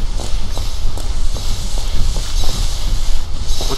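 Rapid, steady footsteps in a video game, close and fairly loud, a regular beat of thuds over a constant hissing background.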